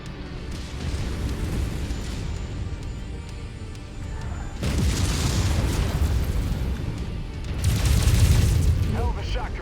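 Mech blowing up as it is destroyed in MechWarrior 5: Mercenaries, heavy rumbling blasts that swell twice over continuous battle noise, with a voice speaking over part of it.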